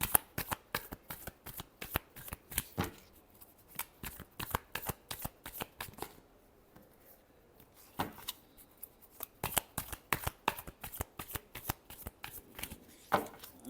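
Tarot cards are shuffled by hand in repeated bursts of rapid riffling flutters, close and crisp, with a brief pause in the middle before the fluttering resumes.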